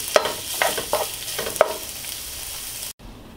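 Chorizo fries in a pan with a bright, steady sizzle, punctuated by several sharp scraping stir strokes before a brief cut in sound.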